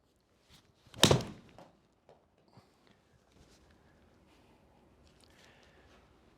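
Golf club striking a golf ball in a launch-monitor fitting session: one crisp, sharp impact, then quiet with faint shuffling in the background.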